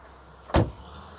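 A classic Lincoln with suicide doors has one door swung shut, giving a single solid close-up thud against a quiet outdoor background.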